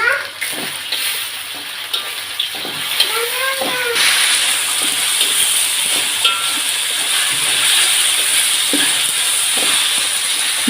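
Garlic paste frying in a pan for a beef and papaya curry: a close, steady sizzle with stirring scrapes, and a faint voice in the background.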